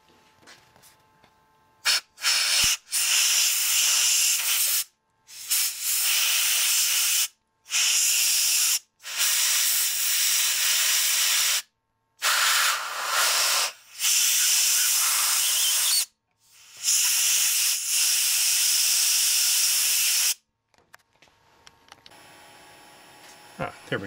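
Repeated bursts of compressed air or spray hissing loudly to blow dirt off the light sensor of a DLP rear projection TV, each burst lasting one to four seconds with short gaps between.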